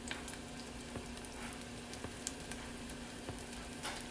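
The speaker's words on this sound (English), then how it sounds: "You see how pretty they're frying up already?" Steady, quiet sizzling of battered onion rings frying in hot oil, with faint crackles and pops scattered throughout and no voices.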